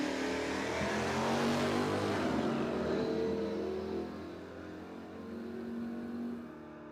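At a Cordova Dragway sportsman-class drag race, a Chevy S10 and a big Dodge pickup truck roar off the line with loud, rising engine revs that then fade as they pull away down the strip.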